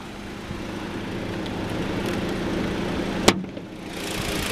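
A 2012 Volkswagen Passat 2.5 SE with a 2.5-liter inline five-cylinder engine runs at a steady idle, a low continuous hum at close range, broken by one brief sharp click partway through.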